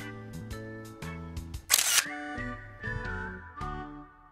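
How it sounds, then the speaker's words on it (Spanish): Camera shutter clicking while a prepared onion dish is photographed: a rapid series of sharp clicks with a brief burst of noise in the middle, close and moderately loud, with no one speaking. "El ruido de la cámara."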